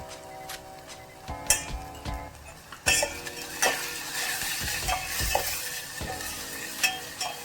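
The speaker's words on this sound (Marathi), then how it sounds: "लसूण खोबरं मिरची थोडीशी भाजून झाली" Garlic, coconut and chili fry in a pan for Maharashtrian dal, a soft continuous sizzle punctuated by irregular utensil clinks and scrapes against the metal, one louder clatter partway through.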